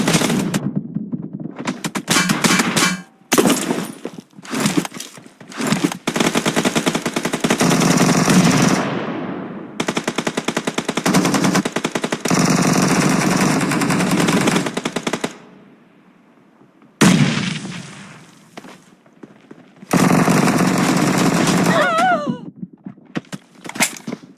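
Gunfire rattles through a PUBG Mobile solo match, loud repeated bursts and volleys broken by short pauses, dense and close throughout.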